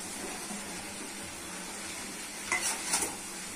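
Chicken curry with potatoes stir-fried in a pan, a steady close sizzle with scraping stirs and a couple of louder clattering strokes near the end, no voices.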